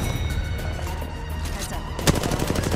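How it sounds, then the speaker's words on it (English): Rapid automatic gunfire from an Apex Legends match rattles in a dense, loud burst, with a sharper crack near the end. "They're shooting at me."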